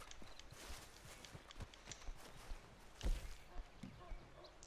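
Faint hooves clop steadily in an uneven rhythm as a horse-drawn stagecoach rolls along in Red Dead Redemption 2, quiet and a bit distant, with one stronger thud partway through.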